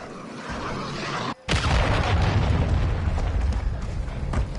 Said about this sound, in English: Hostiles launched a cruise missile.